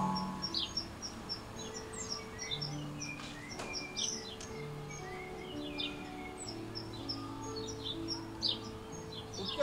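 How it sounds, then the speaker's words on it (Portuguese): Small birds chirping outdoors, many bright short tweets and trills from several directions in a lively continuous chorus, steady and moderately near, with a faint low background murmur and no clear talking. "É um pássaro."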